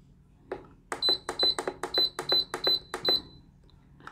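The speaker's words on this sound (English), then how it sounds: "we are going to preheat our air fryer. So air fry 400 Fahrenheit, go down to 4 minutes." Air fryer control panel beeping as settings are keyed in, about nine short, sharp electronic tones in a quick irregular series, close and clear over a quiet kitchen background.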